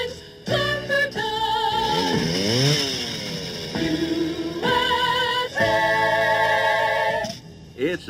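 A chainsaw cuts trees on a sunny day in a wooded town, with engine pitch rising and falling in several long revving bursts separated by brief pauses, loud and close.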